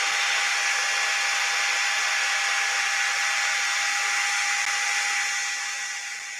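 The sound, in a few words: old Makita drill spinning a long M4 set screw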